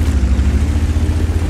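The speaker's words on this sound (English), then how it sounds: "Well, the engine sounds beefier," A tank engine in World of Tanks runs in a close, loud, steady low drone with a slightly pulsing throb and no talking.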